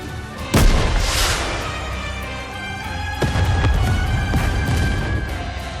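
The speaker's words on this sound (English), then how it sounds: "a shell flies from the rocket launcher. And a resounding explosion causes the entire snowfield to be blanketed in thick plumes of white smoke" A rocket launcher shell explodes across a snowfield in the video game Goddess of Victory: Nikke, a loud sharp boom followed by a long rumbling tail and a second heavier blast, with no talk.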